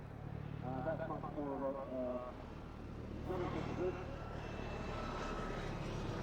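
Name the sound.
police helicopter flying display manoeuvres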